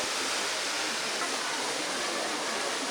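Rushing water pours down the cascades below the Hercules monument at Kassel Wilhelmshöhe, a steady broadband roar of flow throughout with no break.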